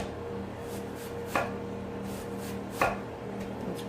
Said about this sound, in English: I'm going to take a little piece of this onion out.